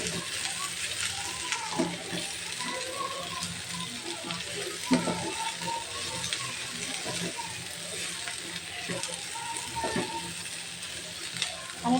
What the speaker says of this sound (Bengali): একসাথে আলু আর পটলটা আমি একটু হালকা ভেজে নেব।